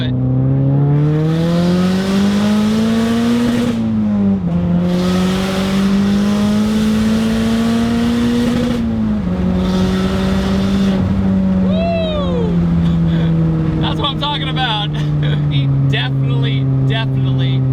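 Turbocharged Mazdaspeed 3 hatchback accelerating hard to its 7,500 rpm redline, loud steady engine drone climbing in pitch through each gear with brief dips at shifts and turbo whistle near the end, heard from inside the car.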